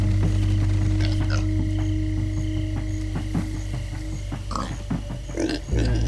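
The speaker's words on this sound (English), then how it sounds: "Stupid pigs." Pigs oinking in the blocky Minecraft Story Mode world, scattered grunts and snorts over a steady low game hum and background music, with a few clicks and thumps mixed in.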